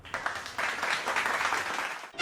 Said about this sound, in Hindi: तो मेरे लिए गाइस हो जाए अभी तालियां।